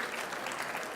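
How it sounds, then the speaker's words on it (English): Guests at a fundraising gala dinner break into applause, a brief, dense burst of many hands clapping together, steady and fairly loud throughout. "Give yourselves a massive round of applause."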